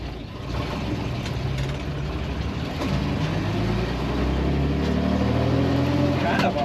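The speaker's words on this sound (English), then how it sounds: "push the floor start, she fires right up" A 1946 Chevrolet half-ton pickup engine starts and settles into a steady, low, rumbling idle with a throaty exhaust tone, close by, with someone talking over it.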